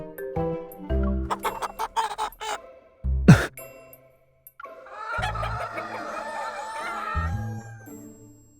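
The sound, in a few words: angry chickens clucking in video game Love and Deepspace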